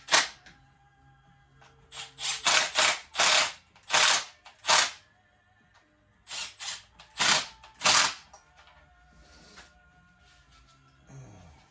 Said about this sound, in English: let's put these bolts back in.